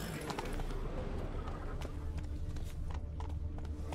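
Horse hooves galloping in The Witcher 3 video game, a steady run of rhythmic hoofbeats over a continuous wash of outdoor ambience, held at an even level throughout.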